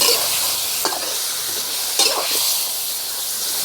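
Pork stir-frying in a pan for a Thai winter dish gives a steady, close sizzle, with two sharper scraping stirs cutting through the continuous hiss.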